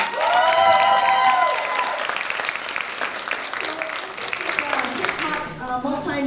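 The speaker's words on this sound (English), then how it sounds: "Huge round of applause for Antics Dancers" Audience applause for a hip-hop dance troupe at a community panel event, a loud sustained burst of clapping with some cheering and overlapping voices, fading slightly as it continues.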